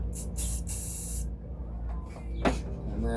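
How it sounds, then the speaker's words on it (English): Three short bursts of chrome spray paint hiss from a can onto a brush in a small workshop, close and loud, followed by quieter handling noises and a brief scrape. "spray a little paint on the brush"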